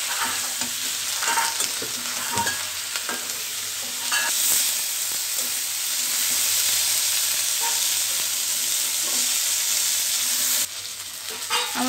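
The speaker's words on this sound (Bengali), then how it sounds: "বেগুনটা একদম লাল করে ভেজে নিব আমি।" Eggplant pieces frying in oil with turmeric and salt until deep red, a constant close sizzle with occasional stirring scrapes and pops, no talk.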